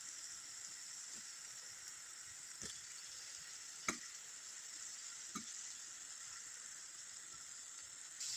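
Besan gatte dropped into oily masala in a pan for a Rajasthani curry, a faint, steady hiss of sizzling with a few soft clicks and one sharper knock, quiet and without talk.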